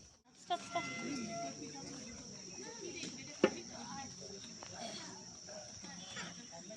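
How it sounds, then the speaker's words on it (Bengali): Crickets chirp steadily through dusk in a tribal village, a thin continuous high trill running under faint background voices and music, with a couple of soft knocks and a sharp tap midway. "ওদের বাজনার সাথে সাথেই ঝিঝি পোকার ডাকটা শুনতে পেলে"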